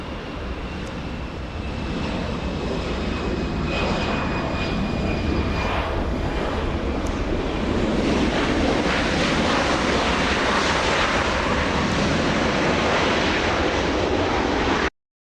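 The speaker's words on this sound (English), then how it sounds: "let's focus our attention to the departure. We have Delta's 2828 flying to Denver" Delta airliner on departure for Denver, a steady loud roar of jet engines swelling over about fifteen seconds with wind buffeting the microphone, no voices.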